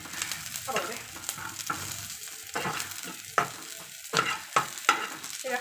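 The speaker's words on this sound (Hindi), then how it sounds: "प्याज गुड़ा भाजी देली" Onions fry in hot oil over a low flame while a utensil stirs them, giving soft sizzling under irregular scraping strokes against the pan. No one speaks.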